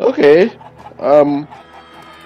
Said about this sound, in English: Out of my way, chickens!